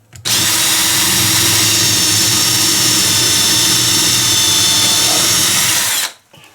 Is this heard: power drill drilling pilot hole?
yes